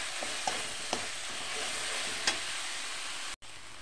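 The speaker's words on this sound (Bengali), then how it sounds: "এখন দিয়ে ভালোভাবে মশলাটা কষে নেব" Spice paste of onion, ginger-garlic, cumin and chilli powder fries in a pan with a steady hissing sizzle, punctuated by a few soft stirring taps, then a brief dropout near the end.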